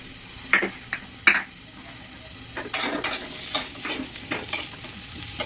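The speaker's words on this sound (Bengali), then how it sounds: "আলু ভেজে নিচ্ছি, ঠিক আছে।" Potatoes frying in hot oil in a home kitchen, a low sizzle under several sharp scraping and knocking strokes as a utensil stirs and turns them in the pan, irregular and close.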